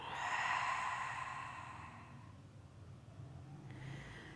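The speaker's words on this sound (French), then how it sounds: "vous allez expirer bruyamment par la bouche" A loud, breathy exhalation through the mouth during a gentle yoga breathing exercise, a single long rushing breath that fades out over a few seconds with no talking.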